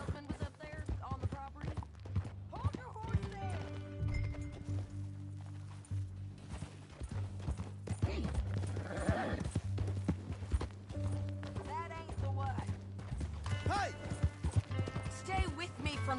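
Horse hooves clip-clop steadily in Red Dead Redemption 2, a fairly quiet rhythmic trot running under a man's spoken dialogue and background music.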